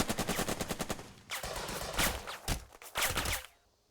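Rapid gunfire from the tactical war game Burden of Command: a fast rattling burst of shots followed by several louder, spaced cracks and blasts, close and loud, ending in a quiet tail.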